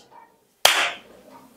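A single sharp hand clap from a stage hypnotist waking a subject, sounding close and loud in a quiet room, with a short ringing decay after the crack and faint murmur before it.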